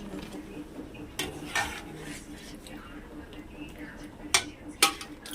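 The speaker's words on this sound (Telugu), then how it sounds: "సగ్గుబియ్యం వేసుకొని అయితే ఒకసారి తిప్పుకుంటున్నానండి." A spoon stirs boiling milk with soaked sago in a metal pot, giving soft scraping and a few sharp clinks against the rim, quiet and close over a low background.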